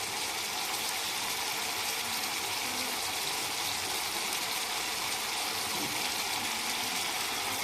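Water pours steadily into a rinsed mixing bowl that held cashews and curd, in a home kitchen while chicken is cooked with fresh cream; a constant, close, rushing gush with no voices.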